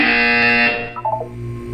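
Loud, harsh, sustained electronic buzzer in the video game Portal 2, droning for about seven-tenths of a second before cutting off, followed by a few brief softer blips over a low hum.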